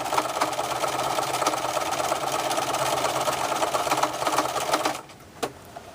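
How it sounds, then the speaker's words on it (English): A sewing machine runs steadily through a straight seam on fabric arm warmers, a close, even whirring that cuts off abruptly near the end, leaving a brief quiet tap. "just sew a straight seam right down to the end"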